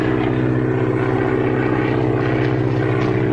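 A propeller plane flying overhead with a smoke attachment, a loud steady engine drone with a buzzing propeller that holds throughout.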